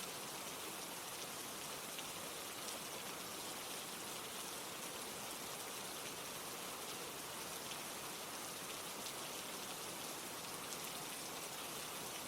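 Steady rain falls evenly and continuously, a dense, unbroken hiss of drops on surfaces with no pauses, close and full throughout, and no voices.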